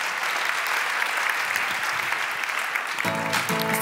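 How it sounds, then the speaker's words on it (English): Sustained applause from an award ceremony audience, a dense even wash of many hands clapping close and loud, with a tonal musical sting entering near the end. "Round of applause."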